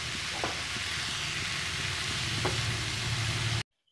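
Fried rice with egg and soy sauce being stirred in a hot pan, a continuous close sizzle with occasional scraping knocks of the utensil, ending abruptly in silence.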